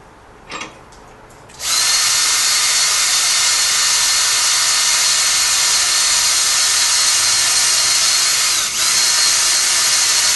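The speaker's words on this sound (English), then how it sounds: "Maybe I'll countersink these." Power drill countersinking holes in a wooden table: after a couple of brief taps, a loud, steady, close high-pitched whine runs unbroken for several seconds, dipping briefly once near the end.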